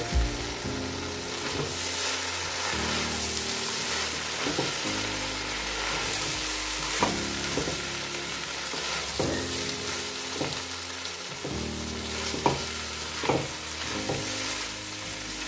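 Rice stirred in a pan with vegetables and beef as it fries, a steady close sizzle broken by repeated scraping strokes of the spoon against the pan, with no talking.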